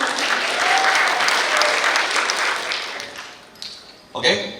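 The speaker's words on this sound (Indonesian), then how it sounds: "Tepuk tangan dong." Enthusiastic applause from a crowd fills the room for several seconds, then fades out, with a brief burst of noise near the end.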